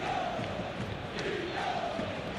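A stadium crowd murmurs and swells faintly in a PES football match, a low continuous roar of many voices with a slight rise, heard alone.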